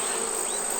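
A cartoon bee buzzing in an animated fairytale, a loud, steady, close drone that bends slightly in pitch, heard alone without talk.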